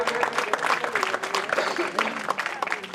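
Audience applause greets an honoured student at a Prajapati community talent award ceremony, steady dense clapping for the full stretch with voices talking over it.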